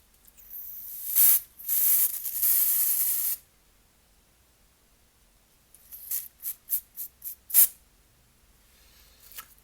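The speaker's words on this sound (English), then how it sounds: "apply some setting spray." Close makeup setting spray: a few long hissing bursts, a pause, then a quick series of short sharp spritzes.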